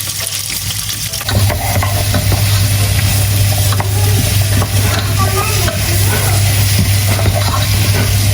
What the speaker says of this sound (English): And now we're gonna saute first this all together.